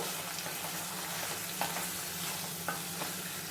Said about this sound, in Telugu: చూడండి, కొంతసేపు అట్లా వేపుకుందాము